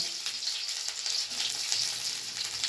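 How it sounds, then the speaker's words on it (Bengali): Chopped garlic, onion and a split green chilli fry in hot oil in a pan, giving a steady, close, hissing sizzle with no speech. "দেখো রসুন পেঁয়াজ দিয়ে দিলাম, রসুন কুচি দিয়ে দিলাম, একটা কাঁচা লঙ্কা চেরা দিয়ে দিলাম"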